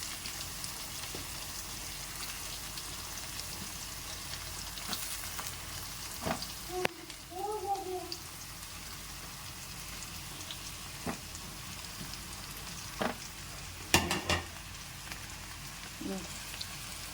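Brinjal fries in oil in a pan for ennegai, a soft continuous sizzle with scattered clinks and brief voice sounds over it.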